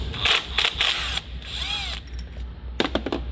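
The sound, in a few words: E10 Torx socket ratchet removing transmission filter bolt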